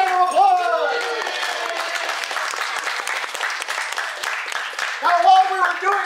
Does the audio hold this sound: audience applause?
yes